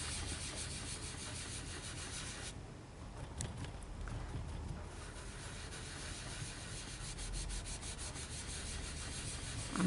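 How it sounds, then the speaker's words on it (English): Steady, close rubbing as a blotch of excess ink is worked off a handmade Christmas card, a soft continuous friction with a brief lighter patch partway through. "So just see if I can rub that little bit of blotchiness out a bit."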